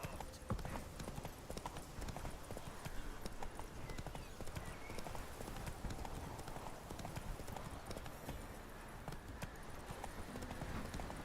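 Roach the horse gallops in The Witcher 3, a steady rapid clip-clop of hooves heard up close under faint game sound and occasional talk.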